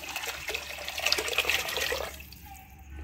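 Dissolved liquid poured into a hot cooking pan of sautéed chillies for tomato mint rasam, a gushing watery splash and sizzle that swells for about two seconds, then drops off into quiet.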